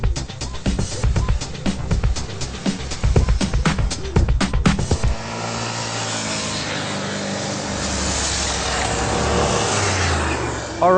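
Gear clatter and rustling give way to a BMW C650GT maxi-scooter, a 2013 model, riding on the road, with a steady engine drone and wind rush that rise gradually over several seconds.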